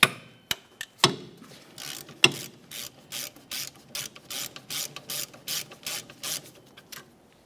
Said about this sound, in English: we can continue on with our last 2 14mm headed bolts